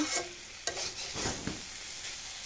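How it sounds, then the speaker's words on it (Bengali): Water spinach (kolmi shak) stir-fried in a pan until its water has cooked off gives a steady soft sizzle, broken by a few sharp scrapes and stirs of a spatula. "শাক ভাজা হয়ে গেছে"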